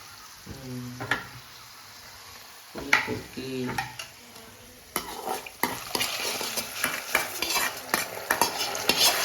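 A tamarind mixture for puliyodharai bubbles and sizzles in a pot, with a utensil scraping and clinking against the sides, growing busier toward the end.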